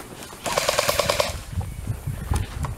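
Airsoft gunfire at an outdoor game: a rapid, even string of about ten shots from one gun, then scattered pops and thuds nearby.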